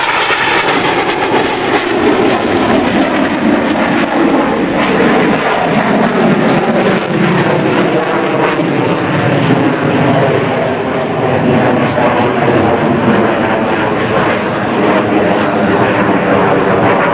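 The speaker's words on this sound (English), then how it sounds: "This demonstration illustrates the incredible pitch authority and vertical maneuverability of the Hornet." An F/A-18C Hornet fighter jet roars loudly and continuously through a demonstration at the 2004 NAS Oceana airshow, its broad engine noise sustained and steady for the whole stretch.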